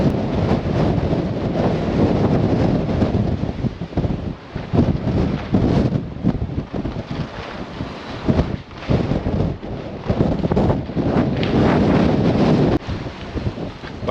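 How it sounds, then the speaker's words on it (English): Extreme gale buffeting the microphone at Land's End on the Cornish coast, a continuous loud roaring rush with gusting surges throughout and no voices. "Right, me and the pug heading into the wind."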